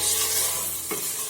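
A thick mutton curry with pepper sizzles in a pan while a spoon stirs it, one soft scrape standing out near the end over the steady frying hiss.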